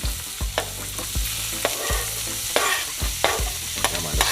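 Onion sautéing in hot cooking oil in a pot for a Jamaican breakfast dish, a steady sizzle and fry broken by repeated scrapes and clunks of a spoon stirring against the pot.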